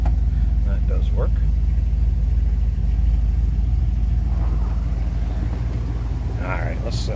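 A 1962 Buick LeSabre two-door hardtop with its 401 engine runs smoothly at a steady low rumble, while someone talks over it, with a few faint clicks and knocks near the car.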